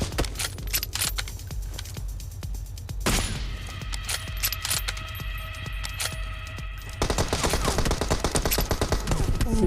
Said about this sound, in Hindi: यहाँ पर एक मैं शॉट लेता हूँ लेकिन हेडशॉट नहीं पड़ पाता